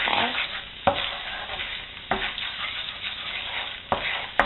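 Flour bubbling and sizzling in melted butter for a chicken stew, a steady close fry broken by three sharp scrapes of stirring spaced about a second apart.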